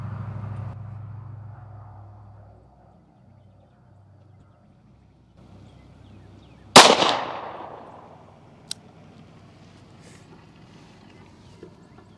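A single sharp gunshot from an S&W Model 36 snub-nose revolver at an outdoor range, a loud crack with a short ringing tail, followed by a faint distant pop, with quiet ambience otherwise.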